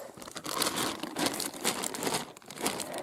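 A plastic bag crinkles and rustles close up while mushrooms are gathered in a forest by a road, in irregular bursts of crumpling with brief pauses and no talk.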